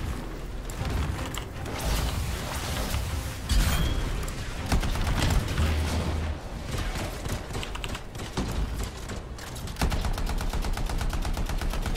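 Rapid automatic gunfire in the video game Anthem, dense bursts of shots and mechanical clatter filling the whole stretch, loud and continuous with no talk.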